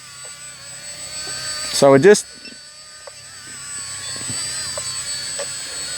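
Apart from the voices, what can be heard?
radio-controlled glider motor at half throttle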